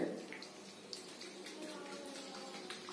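Slaked lime (chuna) being stirred into water for whitewash, a soft continuous swishing and sloshing of liquid heard up close and quiet, with no talk.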